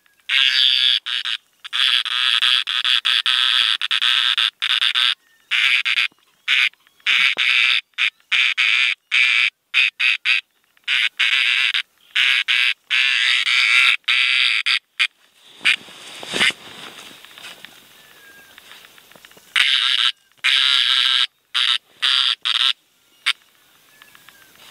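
A tree frog calls loudly and close by in a rapid, buzzing, insect-like chorus of repeated pulses, broken by short silent gaps, with no talking.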